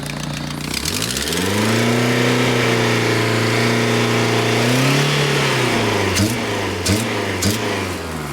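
A modified street car built in Fast and Furious style, with a smoking, troubled engine, revs loudly up close, the pitch climbing and holding, then dipping and surging again in a few short blips toward the end.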